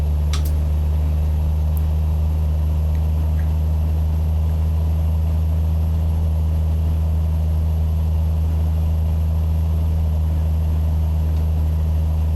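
A Peterbilt 389 truck engine idles in American Truck Simulator, a steady, loud, low hum holding constant without a break, with a few faint clicks near the start and no voices.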